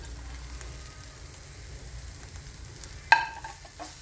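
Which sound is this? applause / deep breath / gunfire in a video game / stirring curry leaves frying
stirring curry leaves frying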